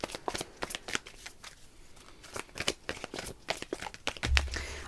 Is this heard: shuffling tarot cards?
yes